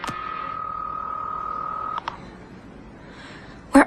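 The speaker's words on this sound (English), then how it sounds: "Come on, Ted, pick up the phone." Telephone dialing tones play in a drama scene: a long, steady tone holds for about two seconds, then two short beeps follow, with a quiet lull and a sharp clatter at the end.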